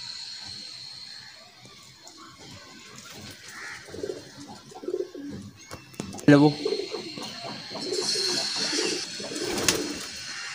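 Sialkoti pigeons coo softly in a loft, their low murmuring calls scattered beneath a voice talking nearby, with some rustling and a louder thump partway through.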